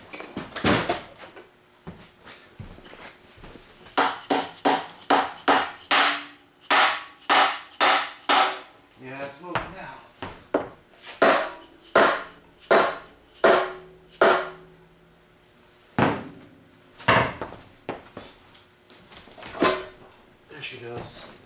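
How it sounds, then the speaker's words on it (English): Repeated metal hammer blows strike a car transmission during removal, a long run of sharp, loud, closely spaced impacts with brief pauses, close up and mostly alone with occasional speech. "I'll hit it with a hammer."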